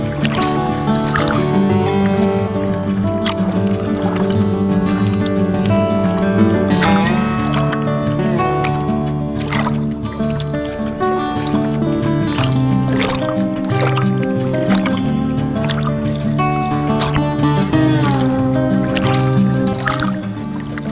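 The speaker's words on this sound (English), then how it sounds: "We can enjoy the splashing sound of water waves in this temple" Water sloshes and splashes steadily in a stone temple tank around a Shiva lingam, heard for twenty seconds beneath a dense, continuous layer of music that largely masks it.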